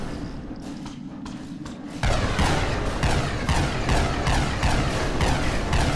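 Rapid gunfire from enemies in a hostile block-built action RPG world: dense, continuous volleys of shots and thuds, sparse at first, then a loud, sustained barrage from the two-second mark onward.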